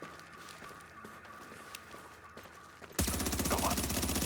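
Video game gunfire: after about three seconds of quiet background with a few faint clicks, a loud, dense burst of rapid automatic fire erupts and keeps hammering steadily to the end.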